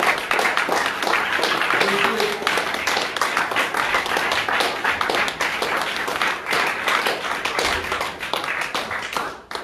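A church congregation claps steadily during worship, a dense, continuous patter of many hands at close range that holds for the whole stretch, with no talk over it.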